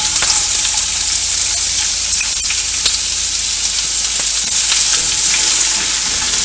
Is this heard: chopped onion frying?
yes